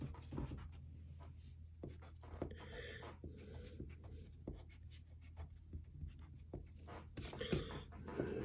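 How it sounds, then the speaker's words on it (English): Pencil construction lines being erased from a drawing on paper, a quiet scrubbing and rubbing texture with short repeated strokes and soft taps, close and alone. "now you can erase and correct some mistakes. You can get rid of these construction lines."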